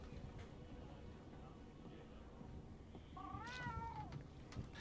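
Palico cat companion in Monster Hunter World gives a single wavering meow late on, over low game ambience with faint background voices.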